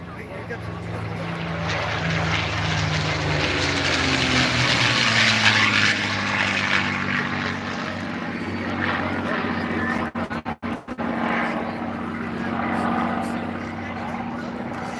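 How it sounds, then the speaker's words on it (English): A P-51 Mustang at an airshow in Chilliwack makes a tight turn and passes by, its engine drone rising and then steadying into a sustained hum, while a commentator talks over it. "Tight turn coming in from the left this time in that Mustang."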